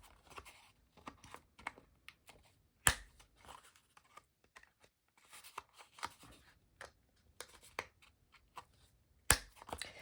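A small mini corner punch clacks sharply as it rounds the corners of paper for a handmade junk journal, a few crisp snaps standing out among soft paper handling and rustling.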